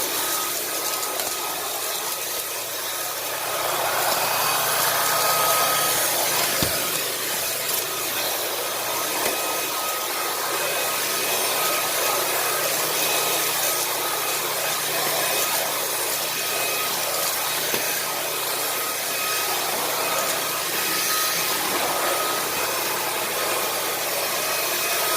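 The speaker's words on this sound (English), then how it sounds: "This is a really good cordless vacuum" A Puppyoo A9 cordless vacuum cleaner runs steadily with a constant, airy high whine and rushing suction, close and even throughout, with no talk.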